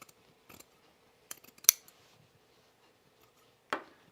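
Scissors trim fabric for a cropped jacket: a few separate crisp snips and blade clicks, one sharper metallic snap near the middle and another cut toward the end, close up in an otherwise quiet room.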